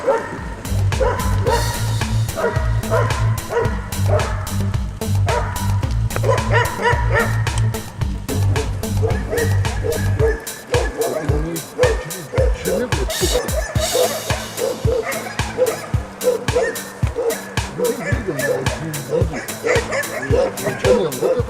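Laika hunting dogs in Yakutia bark in quick, sharp, repeated bursts through the second half, close and loud. Earlier a voice and other sound carry over the scene.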